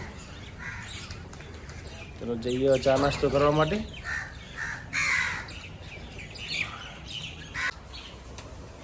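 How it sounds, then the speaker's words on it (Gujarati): Harsh, chattering calls from a small flock of myna birds feeding, some near, some farther off, with a person speaking briefly partway through. "કાબરો કલબલ કરી રહી છે અને ખાઈ રહી છે"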